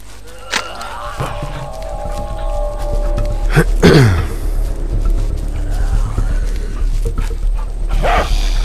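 A dog in the zombie survival game Into the Dead 2 barks and whimpers with yelps and a falling whine, over a steady game background hum and scattered in-game noises.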